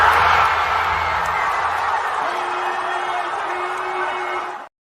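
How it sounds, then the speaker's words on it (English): Arena crowd at a Pacers–Celtics Eastern Conference Finals basketball game erupting after a three-pointer, a loud sustained roar with whoops that stays steady, then cuts off abruptly at the end. "you can hear just the pop from the crowd"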